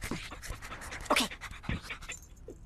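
A cartoon dog pants rapidly from Code Lyoko, quick rhythmic breathy huffs close to the ear with a couple of sharper yelps mixed in, and no talking.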